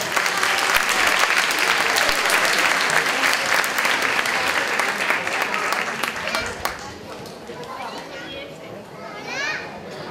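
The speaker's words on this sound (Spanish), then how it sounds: "vamos a recibirlos ya con un fuerte," A strong, sustained round of applause from a mixed audience including children at a local arts fair, loud and continuous for several seconds, then thinning into scattered claps and children's chatter.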